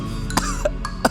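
Short throat-clearing coughs from a character in the West of Loathing video game come in a quick string of three or four brief, close bursts over a low background hum.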